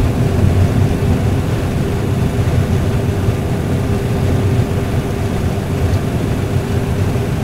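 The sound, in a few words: airliner engines on takeoff roll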